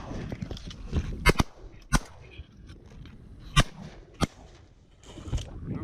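Shotgun blasts during early teal duck hunting on a windy day in Nebraska, several sharp loud reports spaced irregularly over gusty wind noise, with a few muffled voices.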